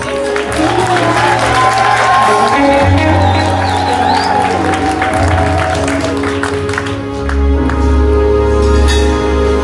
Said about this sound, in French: On peut applaudir mieux que cela.